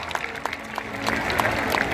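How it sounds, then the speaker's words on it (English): An audience at a killer whale show at SeaWorld San Diego claps for a volunteer, the scattered applause sounding moderately distant and building slightly partway through. "Let's give our very volunteer one more round of applause."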